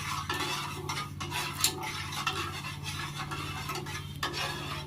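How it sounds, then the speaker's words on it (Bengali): Half a bowl of sugar melting in half a bowl of heated water in a pan while being stirred, a steady spoon scraping and clinking against the metal with a soft sizzle, over a low steady hum. "ভালো করে চিনিটাকে গলিয়ে দিচ্ছি।"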